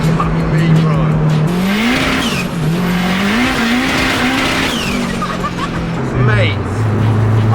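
A K24 turbo-swapped Honda Civic EG accelerates hard on a country lane, its engine droning loud and rising and falling through the gears, with tire noise and people talking over it.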